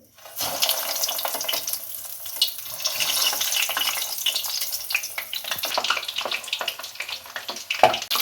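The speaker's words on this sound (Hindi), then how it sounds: "अब इन्हें फ्राई कर लें।" Chicken fingers fry in hot oil in a frying pan, a steady hissing sizzle with scattered pops and crackles throughout, close and fairly loud.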